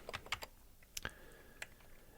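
Keys clack on a computer keyboard in a quiet room, a short irregular run of light taps, a pause, then a couple more single keystrokes, close and soft.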